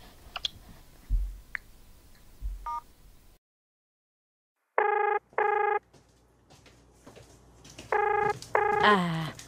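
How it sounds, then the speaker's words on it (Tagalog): A telephone call is placed: a few clicks and then, after a moment of silence, a pair of electronic ring tones, followed by more clicks and further tone bursts, with faint room noise between. "Teka nga, tawagan ko."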